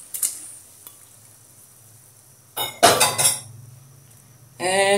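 A utensil stirs spice paste into a pot of boiling pumpkin shoot soup with coconut milk, making scraping, clinking metal sounds in short bursts between quiet stretches.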